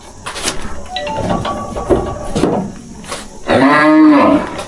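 Cattle at a cow sale moo loudly and close by, with several drawn-out lows and a long bellow near the end, amid a clatter of handling noise.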